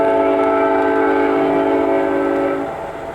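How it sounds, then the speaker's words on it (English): An Amtrak City of New Orleans passenger train departs, rumbling past with a loud, sustained horn blast, then the sound drops away as it moves off into the distance. "There goes our train south to eventually New Orleans."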